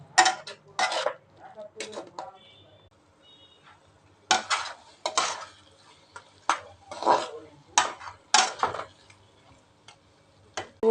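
Chicken momo filling with a splash of milk being stirred in a pan, sharp scattered clinks and scrapes of a spoon against the metal in irregular bursts with quiet gaps between them.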